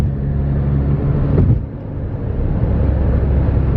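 A VW Golf GTI with a downpipe exhaust burbles and rumbles low as it downshifts, a brief dip then a steady drone from inside the moving car.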